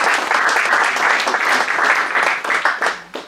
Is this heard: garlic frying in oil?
no